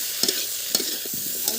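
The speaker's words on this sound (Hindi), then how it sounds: "और वो सब रखने के बाद दोस्तों हमने अच्छे से थोड़ी देर चलाए।" Masala with coriander powder and red chilli powder stirred in a cooking pan, a soft sizzle with a few scraping strokes of the spoon at irregular intervals, close and clear with no talking.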